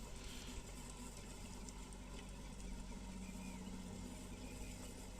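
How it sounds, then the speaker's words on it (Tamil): A tractor ploughs inside a shade hut, its engine giving off a steady, moderately loud rumbling drone that carries evenly throughout. "ஸோ டிராக்டர் இப்போ உள்ளே போய் உழுதுட்டுருக்கு."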